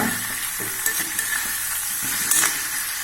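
Raw banana (vazhakkai) is sautéed in a pan with a steady soft sizzle and light intermittent stirring scrapes, close by and without speech.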